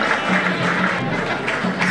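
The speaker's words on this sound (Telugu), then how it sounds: "వీరందరికీ గట్టిగా చప్పట్లు మరొకసారి" Audience applause for donors at a Shirdi Sai Baba silver jubilee celebration in Dharmapuri Colony, a dense and steady patter of many hands clapping close by for a couple of seconds.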